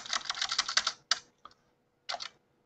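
Close, quick typing on a computer keyboard, a rapid burst of key clicks followed by a few isolated taps and a short final flurry in a quiet room.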